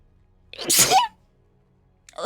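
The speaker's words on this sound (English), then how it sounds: "Feel a sneeze coming on." A single loud, close sneeze with a sharp explosive burst, followed by quiet and the start of another breathy sound at the end.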